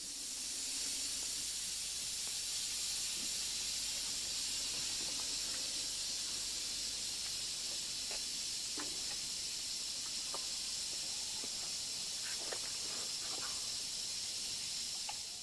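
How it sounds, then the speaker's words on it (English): A steady, bright hiss of escaping steam from several locomotives raising steam at an engine shed, constant and fairly close, with faint clanks and knocks scattered underneath. "Here we are at the engine shed, where several locomotives are in the process of getting steam up."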